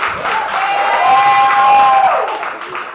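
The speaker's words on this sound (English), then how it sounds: "Give it up for Maddie, y'all! Keep clapping!" An open mic audience claps and cheers for a poet taking the stage, a short swell of applause and whoops with a sustained tonal sound riding over the crowd before it fades.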